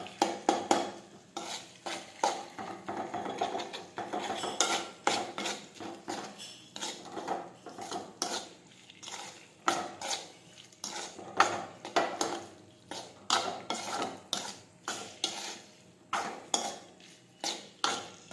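A spoon stirs okra curry with crushed garlic chutney and salt in a pan, making steady, rhythmic scraping and clinking against the metal with a faint sizzle underneath, no voices.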